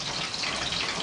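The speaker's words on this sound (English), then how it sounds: "now you can add a little bit of water, maybe 1 cup of water" Water pouring steadily into a cooking pot of squash simmering in coconut milk, a continuous soft gushing splash with no voices over it.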